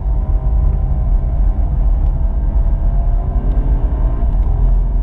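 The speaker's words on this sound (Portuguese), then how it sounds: "pé cravado, despejando toda a potência dessa Mercedes E63 AMG" A Mercedes E63 AMG engine drones loud and steady under hard acceleration on a wet Interlagos track, heard as a deep, continuous rumble from inside the car with no clear rise or break.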